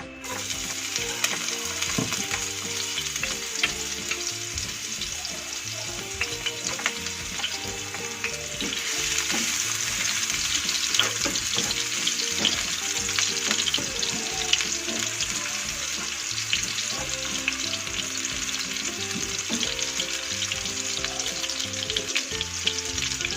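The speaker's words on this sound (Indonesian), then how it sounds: "minyaknya sudah panas, jadi kita masukkan bawang merah dan bawang putih." Shallots and garlic fry in hot oil, giving a loud, steady crackling sizzle that continues for the whole stretch, with faint clinks and a low background hum underneath and no voices.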